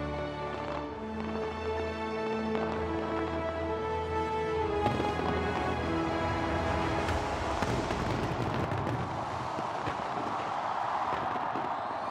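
A New Year fireworks display opens with sustained music, then crackling and booming bursts build over it into a continuous, fairly loud roar of explosions.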